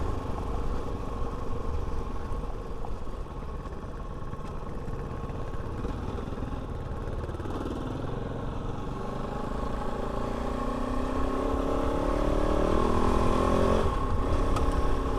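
Steady drone of a Kove 450 Rally motorcycle engine under way on a trail ride, loud and continuous with a slight rise in pitch toward the end, with wind noise and no speech.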